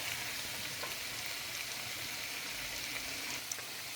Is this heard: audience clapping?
no